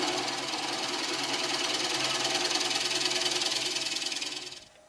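A wood lathe scraping cut hollows the base of a wooden bowl so it will sit flat, giving a steady, dense rasping hiss with a faint whirring hum beneath. It holds evenly, then trails off abruptly near the end.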